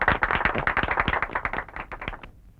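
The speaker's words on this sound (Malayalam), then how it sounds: "എല്ലാരും കൈയടിച്ചേ." An audience at a comic magic show claps in a dense burst of many hands, loud and close, then trails off quickly near the end.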